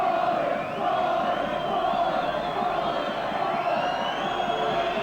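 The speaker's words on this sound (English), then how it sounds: "He really is getting the raspberry from a crowd here." Stadium crowd at a 1985 rugby league match between the Kiwis and St Helens jeers a kicker lining up his shot, a sustained loud roar with drawn-out chanting voices swelling throughout.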